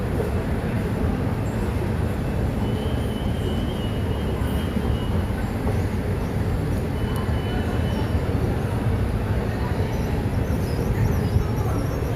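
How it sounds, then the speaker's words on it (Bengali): A metro train arrives at Masterda Surya Sen station in Kolkata with a steady, loud rumbling roar that fills the platform from start to end. "বন্ধুরা মেট্রো আসবে, তো আমি মেট্রো আসছে বন্ধুরা"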